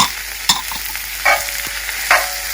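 Minced lamb sizzles and spits in a hot pan for a lamb keema balti, with three sharp scraping stirs of a spoon cutting through the steady frying hiss; no one speaks.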